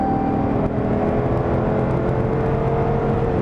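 Dodge Charger Hellcat accelerating hard on the Yas Marina circuit, a steady loud engine roar and whir heard from inside the car and holding for several seconds.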